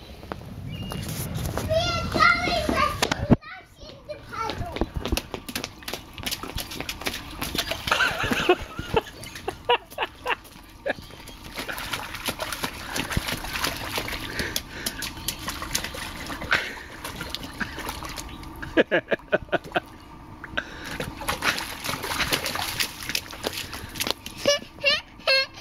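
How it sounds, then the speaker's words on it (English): Children splash through a puddle outdoors, a continuous mix of close slaps, sloshes and patters of water under steady excited children's chatter and shouts. "Children splashing in the puddle on the 8th"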